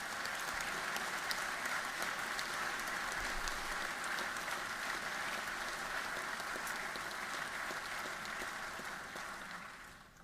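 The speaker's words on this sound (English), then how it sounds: "Everyone should give themselves a round of applause on that one." A large audience at Georgia Governor Brian Kemp's State of the State address applauds, a dense, even wash of clapping that holds steady for about ten seconds and then fades slightly, heard from a distance and with no voices over it.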